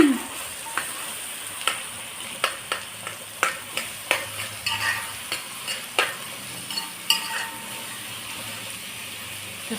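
Chopped onions sauté in oil and ghee in a pot, a soft sizzle beneath a series of regular spoon clinks and scrapes as they are stirred, close and without talking.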